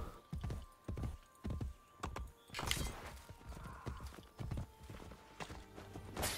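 Horse hooves in Assassin's Creed Brotherhood on Xbox 360 clop along in a steady trotting rhythm, close and clear, with a brief snort partway through.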